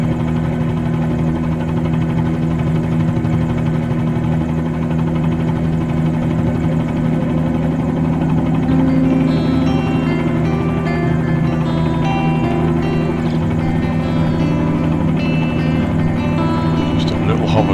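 A helicopter in Microsoft Flight Simulator 2020 lifting off and hovering at Great Corn Island Airport, with a steady, loud rotor and engine drone throughout and someone talking over it.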